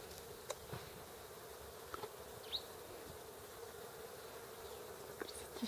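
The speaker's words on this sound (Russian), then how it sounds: "Пчелки тоже не спят." Bees buzzing under an apple tree during a spring honey flow, a faint continuous insect hum with a few brief passing buzzes and small clicks, outdoors with no talk.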